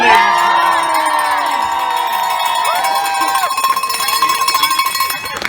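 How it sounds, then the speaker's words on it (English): A large crowd at a Vancouver 2010 Olympics celebration cheers and claps loudly and continuously, with a ringing bell-like tone and whistles carrying over the noise. "Give it up, long and loud, Clara Hughes."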